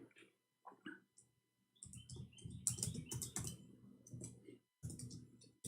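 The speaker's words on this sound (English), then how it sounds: "No, I'm typing in English again." Someone types on a computer keyboard in bursts of quick, irregular clicks separated by short pauses, heard up close.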